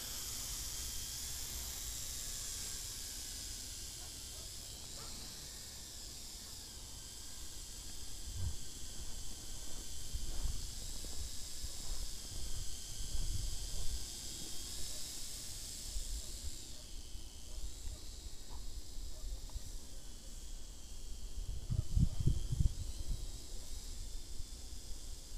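A quadcopter drone flies outdoors while chasing a cat, a steady high whirring hiss of spinning propellers that holds throughout, rising and falling slightly as it maneuvers, with low thumps of wind or handling near the end.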